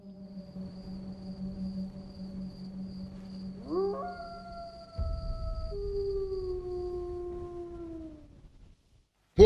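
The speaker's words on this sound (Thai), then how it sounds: "ฟังข้างนอกสิ หมากำลังหอน" Dogs howl outside at night in a period film scene, a long wavering howl joined by a second rising howl that overlaps and slowly fades, then brief silence before a sudden cut.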